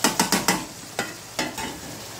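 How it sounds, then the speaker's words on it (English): Onion, garlic, pepper and tomatoes frying with karela in a pan, heard as a quick run of close stirring scrapes over a steady sizzle, then a few slower strokes, with no voices. "here I have my onion, garlic, pepper and tomatoes frying up."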